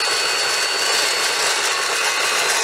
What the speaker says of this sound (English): So I cut through this galvanized angle iron pretty good